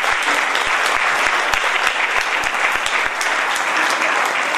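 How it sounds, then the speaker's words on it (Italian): Audience applause for theatre company representatives at a 2018 theatre festival awards ceremony in Rotonda: a dense, continuous wash of many hands clapping, loud and even throughout, with sharp individual claps standing out. "voglio fare un applauso ai presenti."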